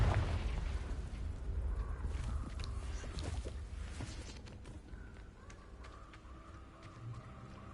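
A Confringo blast spell bursts in Hogwarts Legacy amid loud, dense game combat noise, with booming impacts and running footsteps continuing throughout.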